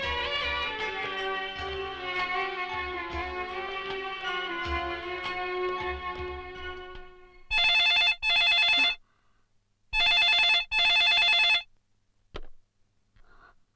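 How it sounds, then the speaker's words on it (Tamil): A telephone rings in a hospital-drama climax, several bright electronic ring bursts in quick succession, loud and alone, following a stretch of sustained orchestral music. "சார் ஒரு ஃபோன்"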